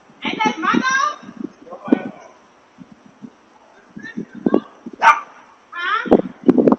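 A white French bulldog barks and yips in short bursts, close by, mixed with people talking around it.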